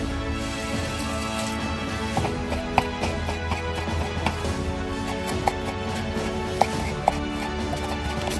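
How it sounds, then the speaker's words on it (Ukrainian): A knife chops carrots into strips steadily against a cutting board, with sharp, irregular cuts over a constant background hum. "Далі нарізаю морковку соломкою."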